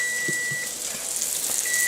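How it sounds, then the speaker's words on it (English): A kitchen timer beeps with a steady high electronic tone that holds, breaks off, then returns, sounding over faint sizzling as butter-blackened halibut cooks in a pan. "we'll set our kitchen timer to 4 minutes"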